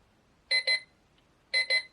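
A large digital wall clock's timer alarm goes off: two quick double beeps, loud, sharp and electronic, about one second apart, with silence between.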